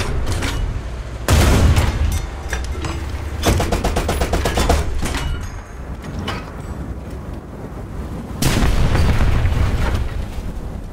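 Artillery fire in a War Thunder ground battle, with heavy booming blasts and bursts of rapid gunfire rolling through a loud, continuous combat din.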